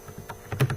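Several quick keystrokes on a computer keyboard while writing a Turbo Pascal program, an irregular burst of close, fairly soft clicks with no talking.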